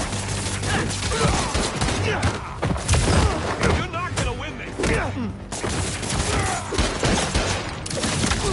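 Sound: gunfire in Spider-Man 2 video game

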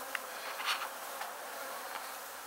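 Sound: bees coming out during a bee removal

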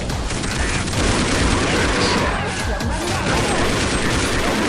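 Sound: shotgun gunfire in the video game Counter-Strike Online

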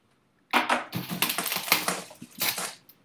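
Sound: writing something down

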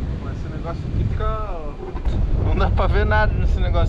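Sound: wind on a hilltop lookout

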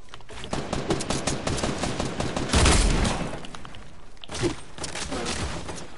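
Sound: gunfire in a video game

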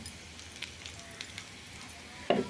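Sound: garlic sautéing in oil until golden

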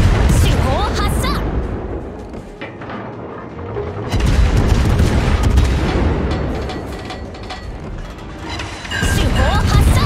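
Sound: warship main guns firing in World of Warships video game

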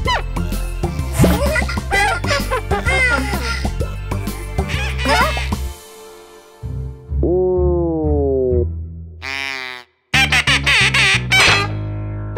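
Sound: cartoon duck quacking

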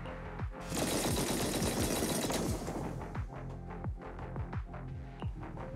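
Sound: heavy cannon firing in the video game Zenless Zone Zero

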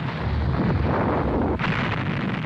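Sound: volcanic eruption sound effect in an anime

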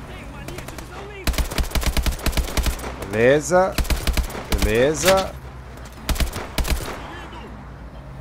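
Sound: gunfire in Call of Duty Advanced Warfare video game

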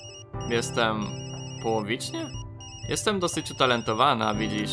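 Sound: work phone ringing in Tokyo Dark video game

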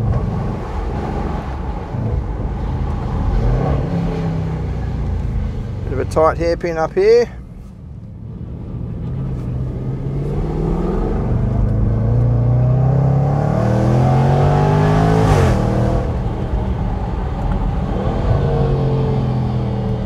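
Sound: sports SUV engine snarling while driving, BMW X3 M or Jaguar F-PACE SVR

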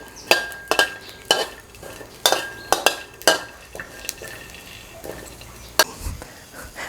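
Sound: shallots and garlic being stir-roasted in a pan

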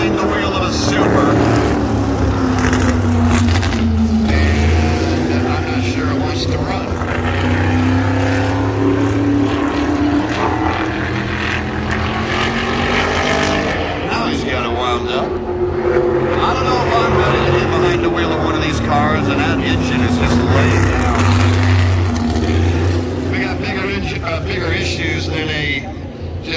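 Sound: super modified race car engine at Berlin Raceway

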